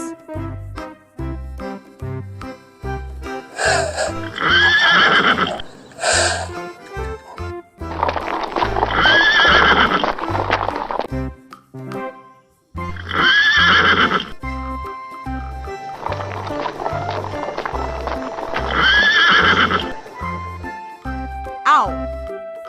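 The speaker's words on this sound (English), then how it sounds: "Horse." Horse neighing and whinnying in several loud, drawn-out bursts, with the steady clip-clop of hooves underneath, set among other animal sounds; music plays along throughout.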